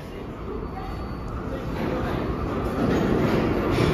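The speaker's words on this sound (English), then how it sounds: "We got another 6 train coming over there." A New York 6 subway train on the Lexington Avenue line pulls into the station with a steadily rising rumble and rattle growing louder and nearer, while people talk faintly nearby.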